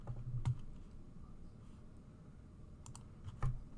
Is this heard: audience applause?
no